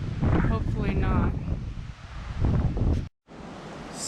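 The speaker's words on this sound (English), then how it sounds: "It's so windy, I'm debating these trees and whether they're widow makers." Strong gusts batter the microphone and rush through trees on a windy Florida hiking trail, coming in loud surges with a brief dropout of the sound partway through, and a voice talks in places.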